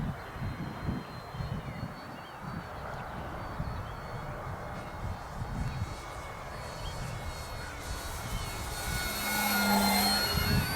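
FMS Kingfisher RC model airplane buzzing overhead in strong gusting wind, a thin motor whine riding over steady wind rumble, growing nearer and louder toward the end.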